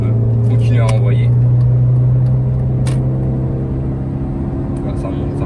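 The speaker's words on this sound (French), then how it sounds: "Ce qui est bien avec une voiture essence, c'est que à 4000 tours, c'est pas essoufflé comme un diesel." A petrol Mini One R50 pulls hard past 4000 rpm, its engine holding a steady, rising droning note inside the cabin while a person talks over it.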